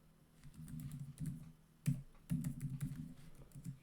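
Keys clattering on a computer keyboard while HTML and CSS code is entered, quiet bursts of quick keystrokes in a few runs, with one sharper tap standing out near the middle.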